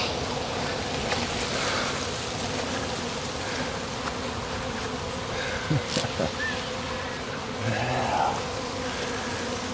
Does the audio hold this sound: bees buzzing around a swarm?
yes